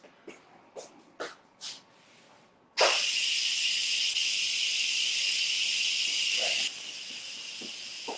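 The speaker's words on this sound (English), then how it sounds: "Now you hear that hissing sound. I'm just letting the steam out of my rice cooker." Steam hisses loudly from a vented rice cooker in a home kitchen, a sudden broad rush that holds steady for about four seconds before dropping to a softer hiss, preceded by a few light clicks and knocks.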